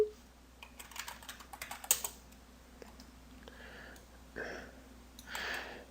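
Keys clack on a computer keyboard in a quick burst of close, irregular taps, then a few scattered strokes with pauses and a soft breathy noise.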